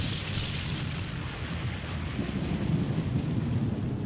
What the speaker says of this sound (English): I immediately got scared by the fucking lightning